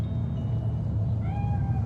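A cat meows faintly in Cyberpunk 2077, a couple of short thin cries over a loud low rumbling game ambience.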